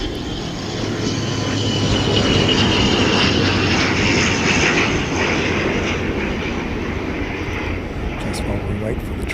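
A fixed-wing airliner landing at Auckland airport gives a loud, sustained engine roar with a rushing whine that swells and holds near, then eases slightly toward the end, heard alone without talk.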